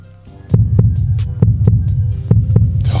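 Heartbeat sound effect with deep, throbbing double thumps repeating in a steady slow rhythm over a low hum, loud and close with no talking.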